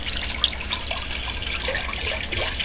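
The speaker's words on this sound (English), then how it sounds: "So we're just going to add this water." Spring water is poured into a pot, half a gallon at a time, giving a steady, moderately quiet splashing and trickling stream with small drips and gurgles, close by and with no talking.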